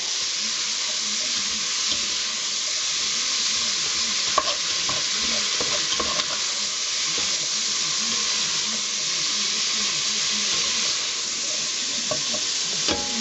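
Vegetables salted and stirred in a pan on the stove sizzle in a constant hiss, with a spoon or spatula scraping and clicking through it in irregular strokes, close by and without talk.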